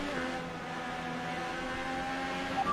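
In an F1 racing game, a safety car passes with a steady engine drone and rising whine. The sound is moderately loud and close, and grows slightly louder toward the end with no talk.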